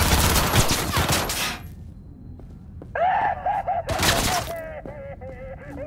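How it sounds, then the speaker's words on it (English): Automatic weapon gunfire from the video game Cyberpunk 2077: a loud, dense burst of rapid shots at the start, then quieter electronic weapon sounds and a second short burst, over a steady game background. "My guy takes a long time to reload that gun."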